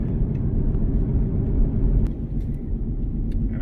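A Jeep engine at full throttle with a throttle-body fault, a heavy low rumbling roar that surges unevenly and stumbles, steady and close with a few faint clicks over it.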